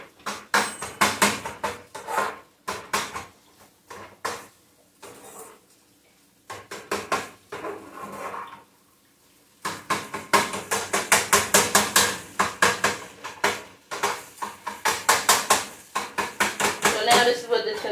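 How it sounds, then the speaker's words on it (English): Knife chopping up fruit and vegetables on a board for a family cleanse meal, rapid loud rhythmic thuds in bursts with a few pauses, close by and dominant throughout. "what I'm going to do is just take it and chop it up"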